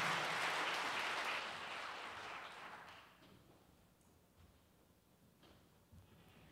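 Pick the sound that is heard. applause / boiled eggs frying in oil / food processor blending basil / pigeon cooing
applause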